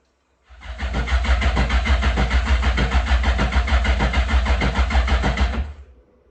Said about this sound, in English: gonna prime the fuel pump a little bit, and then give it a rip, see if it starts